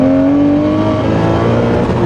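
Lamborghini Murcielago V12 engine revving hard under acceleration through a corner, a loud, steady close-up roar with rising harmonic tones and no talk.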